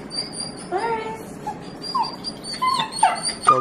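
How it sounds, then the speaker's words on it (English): Excited dogs whimper and let out high yips and whines in short bursts, close by, with faint voices in the background. "Dogs are going absolutely bonkers."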